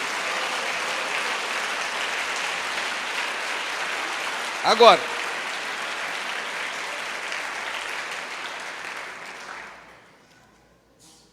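A church congregation applauds during a sermon, dense sustained clapping that carries for about nine seconds, a brief spoken word breaking through midway, before fading out to quiet.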